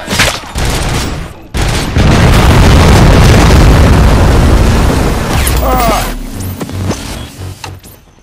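A heavy bomb blast in the RoboCop: Rogue City video game erupts after a short burst of noise, then rolls into a long, loud, booming rumble that slowly fades under scattered game sounds.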